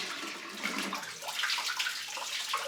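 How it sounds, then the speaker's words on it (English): A toilet flushes a load of pickles, a steady close rush of swirling water filling the whole stretch with no pauses and no voices over it. "we're going to see if we can flush all of these at once down the toilet."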